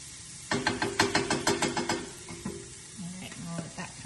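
Food sautéing in a pan sizzles under a burst of rhythmic scraping and knocking as a utensil stirs it, followed by quieter stirring and a low, steady hiss.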